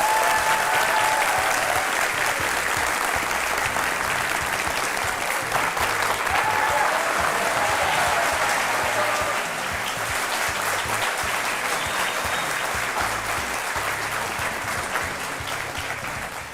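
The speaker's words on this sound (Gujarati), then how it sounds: "અને આ તાળીઓ વાગતી રહે" Sustained audience applause in a TV courtroom-style studio for guest Shivraj Singh Chouhan, former Madhya Pradesh chief minister, dense and steady throughout before tapering slightly at the end.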